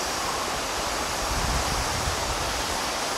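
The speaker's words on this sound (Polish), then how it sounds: "Wodospad za nami." A waterfall close by, a constant full broadband rush of falling water that is steady and fairly loud across the short stretch.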